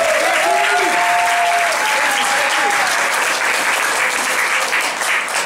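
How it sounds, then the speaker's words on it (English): Loud, sustained applause from a large crowd, with a few whoops and cheers rising over the clapping early on. "Let's applaud so loud"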